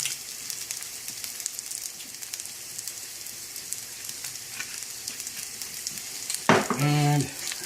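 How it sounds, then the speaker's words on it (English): Garlic cloves fry in camelina oil, a steady close sizzle and crackle running throughout, ending with a brief louder clatter and tonal scrape as the pan is handled. "Frying up in Camalina oil."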